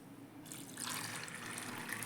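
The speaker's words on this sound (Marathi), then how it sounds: "आता प्रेशर कुकर घ्या आणि त्यात साधारण 1 ते 2 कप पाणी घाला" One to two cups of water pour into a pressure cooker, starting after a brief quiet moment as a steady, close splashing gush that fills the rest of the clip without any voices.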